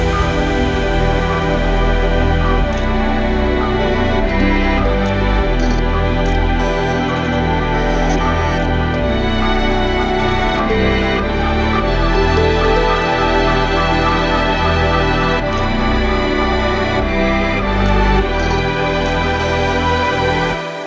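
A full future bass drop with layered chords, heavy bass, plucks, loops and an impact all playing together, loud and dense throughout with no talking.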